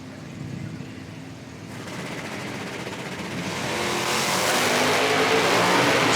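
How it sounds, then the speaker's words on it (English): Drag race between a 2010 Dodge Challenger and a 1971 Dodge Demon at an IHRA Outlaw Nitro Series Pro Am event in West Salem, one car with nearly a second's head start: loud, rising engine roar building steadily with no talk over it. "2010 Challenger and 1971 Dodge Demon. Almost a 1 second head start to the right-hand lane."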